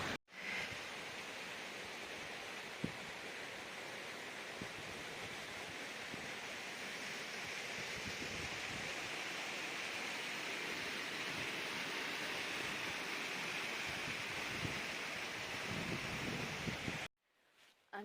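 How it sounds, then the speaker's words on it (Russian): Dzykhra waterfall in a canyon roars as a steady, dense broadband rush of falling water, constant and fairly close, filling the scene without talk before cutting out near the end. "Сейчас пойдем вниз смотреть на водопад."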